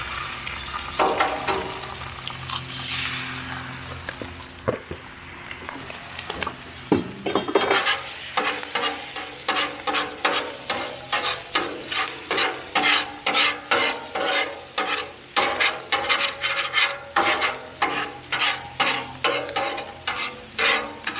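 On a Blackstone griddle, metal spatulas scrape and stir briskly in a fast repeating rhythm over a low sizzle as eggs fry in oil for chicken fried rice. The scraping is close and loud.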